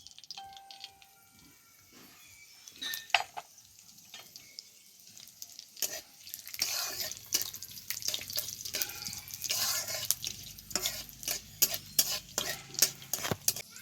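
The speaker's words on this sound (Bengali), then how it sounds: "তারপর তেলের উপর দিয়ে দিচ্ছি শুকনো লঙ্কা আর 5 ফোড়ন।" Dried red chillies and five-spice tempering hit hot white oil in a pan on the stove, bursting into a loud crackling sizzle with stirring scrapes and small clatters that build and stay close, with no one talking.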